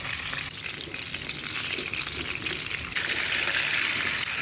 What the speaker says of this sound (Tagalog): Olives oil din natin to piprituhin. Ilagay na natin.